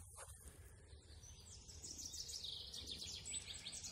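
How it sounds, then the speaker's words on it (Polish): Birds sing faintly in the distance, with thin high trills and chirps over a low outdoor hum. "Ptaszki śpiewają."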